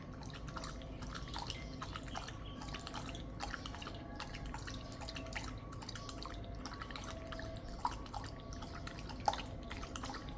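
A disabled dog laps water close up, a steady run of quick wet licks and small drips lasting several seconds with a soft background hiss.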